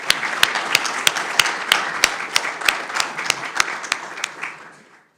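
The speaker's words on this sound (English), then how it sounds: "Please join me in giving Candidate Cato a round of applause." An audience at a county candidates' forum applauds steadily for about five seconds, with sharp individual claps over a dense wash of clapping that fades out at the end.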